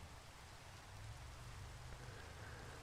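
Rain mixed with snow falling in Minecraft, a soft, steady hiss of precipitation with a faint low rumble underneath, even and continuous and without talk.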